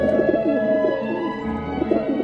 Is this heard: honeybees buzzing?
no